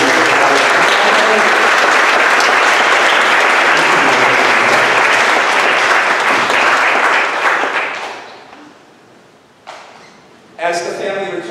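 A church congregation applauds during a Sunday liturgy, with loud sustained clapping filling the room before fading to quiet, then a shuffle and a voice speaking.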